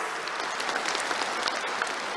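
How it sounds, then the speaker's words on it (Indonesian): A large crowd at a party anniversary rally gives loud, dense applause, a continuous wash of many hands clapping at once. "Loh ya, buat tepuk tangan yang keras."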